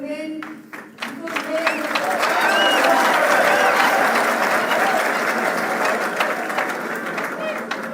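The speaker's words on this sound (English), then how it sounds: "It got lost in the clapping." Sustained applause from a large audience at a university political rally, rising quickly into a dense, loud wash of clapping and crowd noise that holds steady, with voices mixed in.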